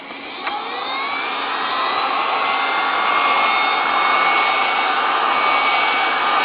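A heat gun blows a steady, loud roar of hot air for a board reflow, holding constant throughout with no pauses and no voices.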